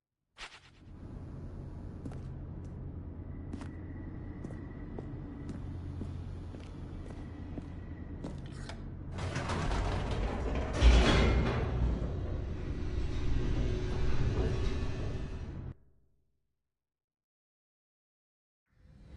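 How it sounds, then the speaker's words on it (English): An elevator plunges downward in The Stanley Parable, a steady low mechanical rumble that swells into a louder roaring rush partway through, then cuts off abruptly into silence. "The elevator raced downward, plummeting towards an unknown fate."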